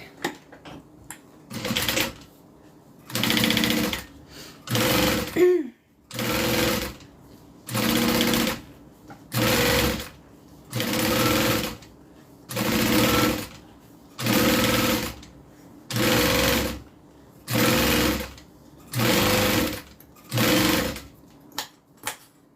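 A sewing machine stitching a custom order in loud, evenly paced bursts of rapid mechanical clatter, about a dozen runs each lasting a second or so, separated by short pauses.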